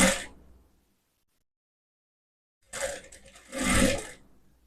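A sewing machine stitching a blouse runs in short bursts, a brief run at the start, then a pause and a louder burst of rapid stitching near the end, close and clear with no talk.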